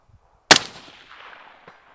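A single sharp shot from a Faxon rifle cracks out loudly, followed by a decaying echo rolling away for over a second, with no talking around it.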